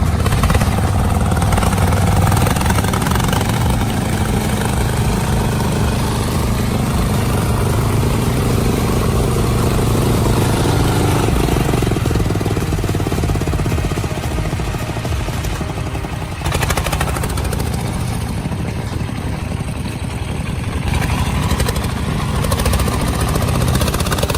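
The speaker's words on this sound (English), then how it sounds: "The wheels crunched in the mud, spinning hopelessly, the engine roaring helplessly." A heavy off-road truck engine roars continuously and loud, with the rumble of wheels churning in thick mud and rocks, a dense steady drone that barely eases throughout.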